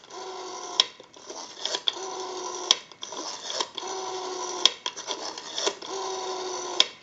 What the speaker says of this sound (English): We have a nice smooth return on our rotary dial.